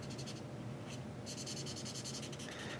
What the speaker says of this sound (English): These are colored pencils to make very precise little changes.